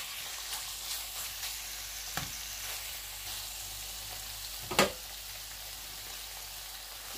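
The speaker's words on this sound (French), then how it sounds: "On va les laisser blanchir dans cette huile-là." Bread and turkey croquettes frying in oil, a continuous close crackling sizzle with a couple of brief clinks or taps of a utensil.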